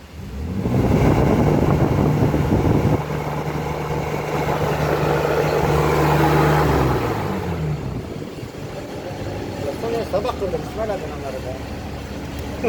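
A warm car engine with a clogged exhaust revs loudly for several seconds, then drops back to a rough idle, while people talk nearby throughout.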